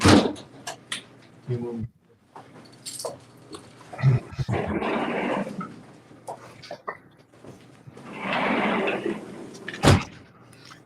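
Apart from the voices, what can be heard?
door opening and closing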